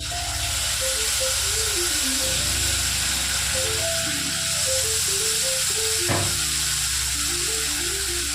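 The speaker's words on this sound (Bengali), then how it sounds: "কিছুক্ষণ ফ্রাই করে নেব আদা রসুন পেস্টটাকে" Ginger-garlic paste fries in hot oil with whole spices for an egg biryani, giving a steady, close sizzle throughout while a tonal melody plays softly underneath.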